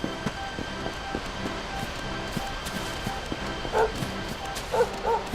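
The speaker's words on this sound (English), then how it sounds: "The dog is totally excited." An excited dog in Dragon Quest XI gives two quick high yips over a soft game music bed, bright and close but brief.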